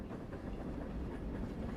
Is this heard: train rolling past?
yes